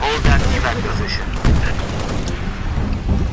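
Gunfire rattles in the Halo Reach video game, with loud repeated shots and booming blasts in quick bursts among in-game battle chatter.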